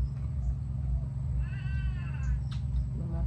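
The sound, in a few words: cats meowing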